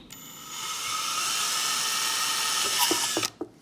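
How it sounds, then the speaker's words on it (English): A small drill bit whines at a steady high pitch for about three seconds drilling into a lamp, then winds down with a few clicks. "The trick is to let the drill do the work."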